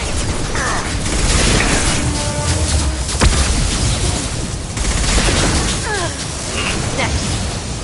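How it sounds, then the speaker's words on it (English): A flashbang grenade blasts amid a dense Mass Effect 2 firefight, with a sharp crack standing out over constant gunfire, mechanical clatter and combat voices. "Watch out, flashbang!"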